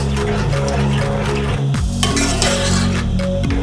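A rice mixture with olives is stirred in a pot, a close scraping and soft clinking of a spoon against metal over a steady low hum, with no one talking.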